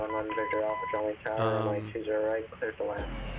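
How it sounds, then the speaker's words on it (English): Morse code identifier tones from a VOR navigation beacon, Pogi VOR, tuned in X-Plane 11 in a TBM 900 near San Diego, come as short steady beeps with a radio voice talking over them throughout. "So these beeps and tones you're listening to is like this Morse code."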